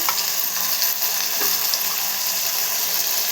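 Four or five garlic cloves fry in a hot pan, giving a steady, loud, close sizzle that runs unbroken throughout with no voices.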